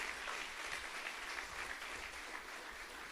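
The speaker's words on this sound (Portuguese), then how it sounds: "Pode aplaudir. Glória a Deus." Church congregation claps together after a call to praise, a brief, quiet but steady burst of many hands with a low hum underneath.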